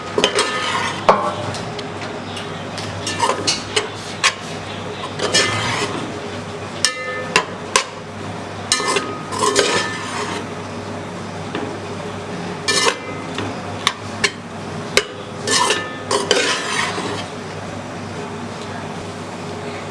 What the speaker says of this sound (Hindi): अब इसमें हम रोटी का चूरा डालेंगे। इसे फ्राई कर लेंगे।